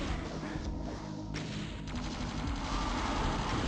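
Repeated rocket launcher blasts in DOOM 2: DOOM ZERO boom in quick succession amid chaotic game combat, dense thuds and explosions layered together without pause.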